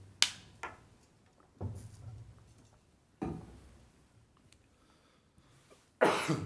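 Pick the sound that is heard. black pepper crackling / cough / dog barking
cough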